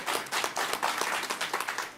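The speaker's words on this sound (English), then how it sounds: "you can give her a round of applause" Faint audience applause at an agriculture and climate solutions panel: a soft, steady patter of many hands clapping, distant and low in level, with no talk over it.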